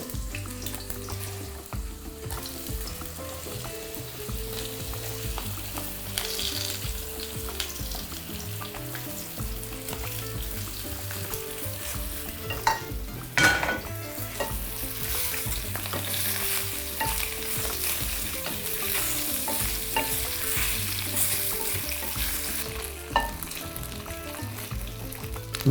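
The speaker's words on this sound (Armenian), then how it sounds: "Կարծում եմ արդեն պետք է սմբուկը լցնել։" Eggplant fries in garlic-flavoured vegetable oil for a warm salad, a steady, close sizzle with stirring and occasional utensil clatter throughout, and no talking.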